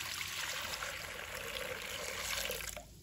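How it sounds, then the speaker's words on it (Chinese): Clean water pours steadily into a cooking pot, a close, continuous splashing stream that stops abruptly just before the end. "接着我们起锅，倒入清水，"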